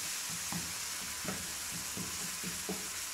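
Masala frying for a mashed potato curry, a steady hissing sizzle with soft rhythmic stirring thumps at roughly half-second intervals, close by and alone.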